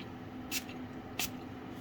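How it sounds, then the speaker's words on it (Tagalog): Two quick bursts from a cheap plastic atomizer on a bottle of Nautica Voyage perfume, each a short hissing spray about half a second apart, close and crisp over a quiet room hum. "So here's the spray naman."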